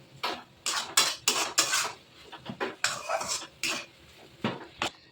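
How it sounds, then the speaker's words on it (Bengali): A spoon beats ready-made dhoka lentil mix in a metal pot, giving a quick run of loud, close clanks and scrapes in uneven bursts, with no talking. "দু প্যাকেটই দিয়ে দিয়েছি এবার এটাকে একটু মেরে নিই"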